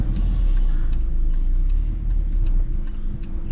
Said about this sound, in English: Put the car in reverse all the way to the right, because we're doing the 3-point turn